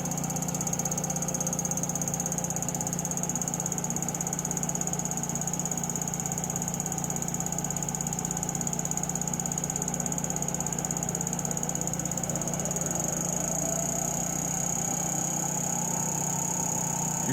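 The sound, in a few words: Brewer Science 100 spin coater spinning at about 1,000 RPM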